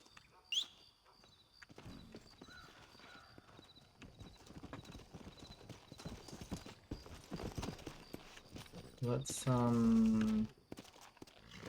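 Horse hooves clip-clop at a walking pace in the Red Dead Redemption video game, with a loud whinny near the end, over quiet ambience.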